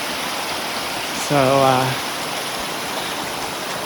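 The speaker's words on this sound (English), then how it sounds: "So this is a good source. It's running. It's coming from the snow melt up above." Snowmelt mountain stream running on a Mount Whitney trail, a steady close hiss of flowing water filling the whole clip, with someone briefly speaking over it.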